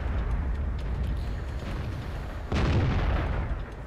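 A tank gun fires in World of Tanks from a Chi-To Japanese tier 6 medium tank, with a heavy boom bursting out over a constant low rumble of engine and battle noise.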